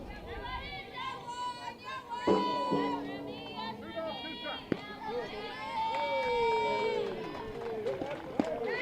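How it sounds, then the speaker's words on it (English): Spectators at a softball game chatter and let out a small, scattered cheer, with a play-by-play voice talking over the crowd noise and occasional sharp knocks nearby. "It's a little cheer from those in attendance."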